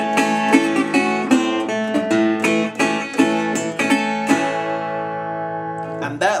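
An acoustic guitar plays a Delta blues lick, with brisk, choppy right-hand upstrokes striking in a quick, even rhythm before a final ringing chord, close and clear.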